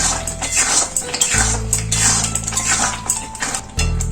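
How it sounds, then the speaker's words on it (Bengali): A utensil scrapes and clinks against a pot while ripe papaya halwa is stirred, with repeated close metallic knocks and scraping over a low, steady burner hum. "এখন একটু নাড়তে হবে তলায় বসে যাবে"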